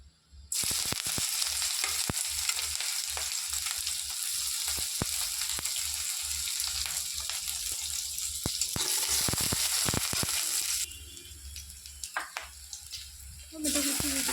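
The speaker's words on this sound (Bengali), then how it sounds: "কড়াইতে তেল দিয়েছি, শুকনো লঙ্কা দিয়ে দেবো।" Dried red chillies fry in hot oil in a kadai wok with a loud, steady hiss and crackle that runs for about ten seconds, then drops to a quieter sputter.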